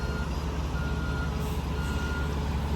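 Concrete trucks maneuver in and out of a large parking lot construction site, a steady low engine rumble filling the scene with faint reversing beeps, loud and continuous throughout.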